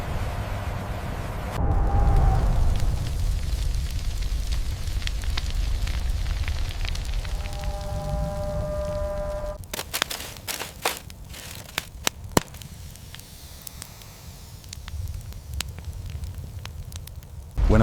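Wildfire burning in high wind: a steady roaring crackle with a low rumble, joined midway by sharp cracks and pops, loud and sustained with no talk.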